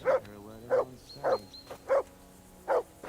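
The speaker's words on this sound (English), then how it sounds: "Get that mutt of yours to stop barking, will you?" A dog in the video game Kingdom Come: Deliverance 2 barks five times at an even, unhurried rhythm, each bark short and clear, with quiet gaps between them and no talking.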